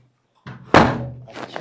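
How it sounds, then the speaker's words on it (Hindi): A door shuts with a single solid thunk at close range, followed by a short rattle and faint movement. "माधुरी जी, दरवाजा।"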